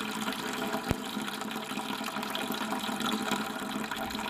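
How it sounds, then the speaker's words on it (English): Watery mud poured off settled earthen plaster mixed with rock screenings in a bucket makes a steady, continuous splashing gush with one sharp knock partway through. "you can just pour this watery stuff off"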